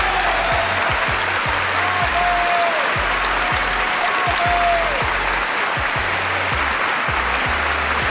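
A large crowd delivers a sustained standing ovation at the Oscars as Charlie Chaplin accepts his award. The dense, steady clapping fills the whole stretch, with a faint tone and soft low beats underneath.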